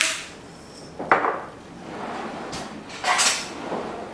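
Sweet potatoes and beets tossed in a bowl with rosemary, thyme, salt and pepper, giving a few short clattering, rustling bursts against the dish with quieter pauses between, close by and without talk.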